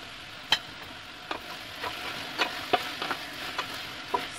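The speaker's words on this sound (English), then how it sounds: "Then I add in onions," Tomatoes and onions sizzle in a pan for a Zambian okra dish as a utensil stirs them, with sharp scraping knocks every half second or so over a soft, constant frying hiss.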